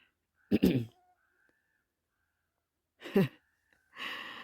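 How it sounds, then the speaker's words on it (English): Ravens calling near a nest across the way, harsh caws in two short bursts about two seconds apart followed by a rougher call, moderately distant in otherwise quiet surroundings. "there's some ravens making a lot of noise across the way"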